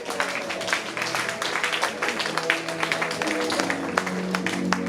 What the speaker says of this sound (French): On applaudit pour la famille.